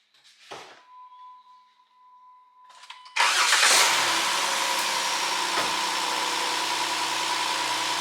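A Jeep Wrangler JK engine cranks briefly and catches, settling into a steady, loud close idle after a few faint clicks and warning chimes.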